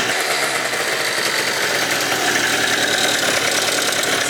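A 70cc Yamaha Zuma stunt scooter engine runs steadily at idle after new intake plugs, a close, loud buzzing drone with an even rapid pulse and no talking.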